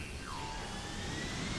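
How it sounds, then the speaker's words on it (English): A jet engine in Deus Ex: Human Revolution gives a steady, quiet roar with a whining tone that slides down in pitch and then holds. "Oh, the jet."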